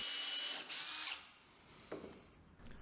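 A drill spins a piece of wood to form a dowel for a plywood hatchet handle, a brief high whirring burst with a short dip, then quieter scraping and rubbing.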